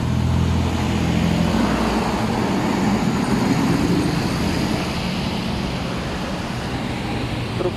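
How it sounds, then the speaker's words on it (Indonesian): Long tronton trailer truck passing on a road, a broad continuous roar of engine and tires that holds loud throughout, heard from close by. "Truk tronton gandeng."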